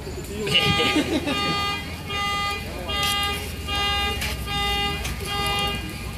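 An alarm sounds in repeated pulsing bursts of a harsh electronic tone, going off steadily for several seconds.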